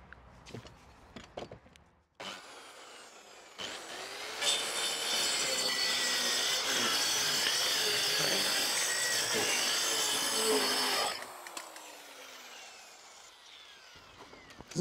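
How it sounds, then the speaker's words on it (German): A power saw guided along a straight edge cuts through wooden boards for a plank shed door, a loud sustained whine of about seven seconds framed by quieter knocks and handling sounds. "Säge eingerichtet, auch so eine Führungsschiene oder so ein Führungsholz, an dem ich entlang sägen kann"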